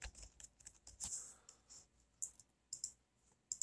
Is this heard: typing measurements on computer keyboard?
yes